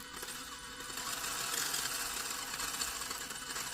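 A tiny electric motor on a mini Mazda MX5 Miata RC drift car buzzes and jitters on its own, a faint, continuous whirring chatter with a fine rapid flutter and no pauses.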